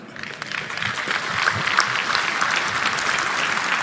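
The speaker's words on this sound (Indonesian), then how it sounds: "Kata SBY disambut tepuk tangan meriah peserta di lokasi." Loud, dense applause from a large crowd at the Indonesian Defense University, clapping steadily and continuously from start to finish after a speech by former president Susilo Bambang Yudhoyono.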